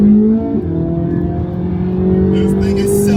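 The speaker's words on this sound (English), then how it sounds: "Do a little second to third gear pull." A Corvette C8 Z06 pulls hard through second into third gear, its engine note loud and close, rising steadily with a shift near the start and a continuous sustained drone to the end.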